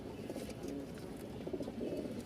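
Bashiraj pigeons, a thin-voiced breed from Rajshahi, coo steadily and close by, their low soft calls overlapping continuously with no talking.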